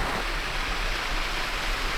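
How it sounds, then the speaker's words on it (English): Waterfalls and a stream in Puck's Glen, Scotland, running fast after heavy rain, a steady broadband rush of water that is continuous and fairly near, with no voices. "The heavy rain seemed to make the waterfalls flow faster."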